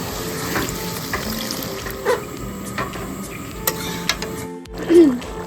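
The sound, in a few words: water poured into frying mustard paste, sizzling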